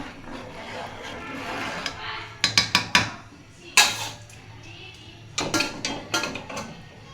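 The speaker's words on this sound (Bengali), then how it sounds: "চালগুলো দিয়ে একটু নাড়াচাড়া করবো" A spoon scrapes and knocks against a cooking pot while rice is stirred for khichuri, in irregular clusters of sharp scraping strokes over a quiet background.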